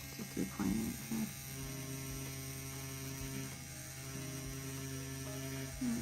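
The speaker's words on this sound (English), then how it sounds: "So the P6 is doing really, really well on the silicone test." A CNC P6 tattoo machine runs on a silicone practice surface, giving a quiet, steady electric hum with a buzzy drone that continues throughout, broken by a few soft handling knocks near the start.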